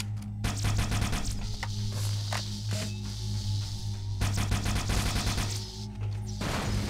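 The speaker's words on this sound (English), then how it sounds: "needler explosion at a sentinel" Needler fire and crystalline explosions from Halo: Combat Evolved, a dense run of rapid shots and bursts striking a sentinel, loud and continuous over game music with no talking.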